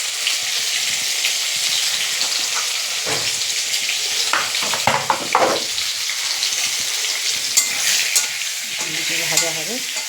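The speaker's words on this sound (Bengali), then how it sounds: "স্বাদ মতন হলুদ দিয়ে দিলাম। ভাজা হোক সুন্দর করে।" Potatoes with turmeric frying in a pan, a loud continuous sizzle with rain-like crackle, broken by scraping and stirring clatter from a utensil partway through, no voices.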